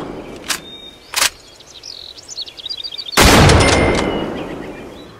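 Rifle gunshots from the hunting video game Cabela's Big Game Hunter 2012 ring out as two sharp, loud cracks, with faint chirping birds between them, then a heavier blast that trails off in a long echo.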